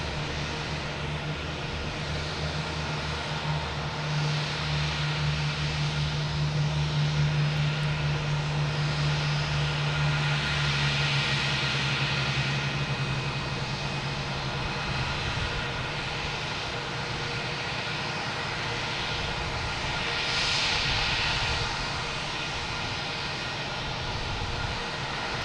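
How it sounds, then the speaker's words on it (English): A Scandinavian Airlines Airbus A330-300 arriving from Copenhagen lands on runway 33 left at Boston Logan, its steady, loud jet engine roar building and then sustained, with no voices over it. "Scandinavian Airlines landing 33 left. Coming in from Copenhagen, an A330-300."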